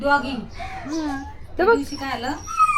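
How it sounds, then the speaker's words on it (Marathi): A dog whimpers in short, high, wavering cries close by, mixed in with people talking. "डॉगी"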